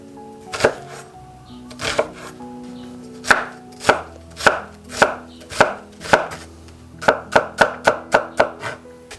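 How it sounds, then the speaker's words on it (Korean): A knife slices a halved onion thinly on a cutting board for nasi goreng. Around eighteen crisp, close chops land at a steady pace, then quicken into a faster run near the end, with no talking. "양파를 반으로 가르고 얇게 썰어주면 됩니다."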